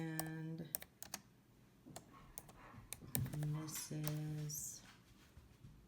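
Keystrokes on a computer keyboard entering text in Cricut Design Space, a scattered run of sharp clicks at close range, mixed with talk in the room.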